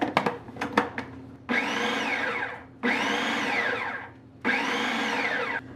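Three long pulses from a food processor blending flour, sugar and yeast for pizza dough, each a steady whirring burst of about a second or more, separated by short pauses, following a few sharp taps at the start.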